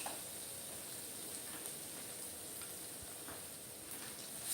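Mustard seeds crackling in hot oil with asafoetida and garlic paste added, a quiet steady sizzle with faint scattered pops and a soft stirring knock or two, no talking.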